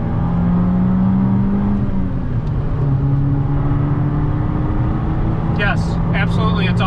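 An Abarth car with a Racechip tuning module switched on accelerates from inside the cabin, its engine drone steady and loud under continuous conversation between occupants, with a brief whine near the end.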